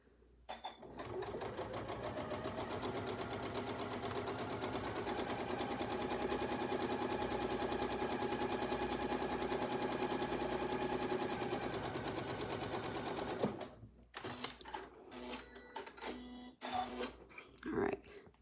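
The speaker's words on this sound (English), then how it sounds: "get everybody lined up, and we'll be ready to sew" A sewing machine stitches fabric in a steady, fast, continuous run for about twelve seconds, then stops abruptly and a person starts talking.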